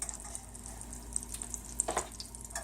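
Shrimp sizzle in melted butter in a pan, a steady crackling fry with brighter pops and a brief stir near the end, close and fairly quiet, with no talk.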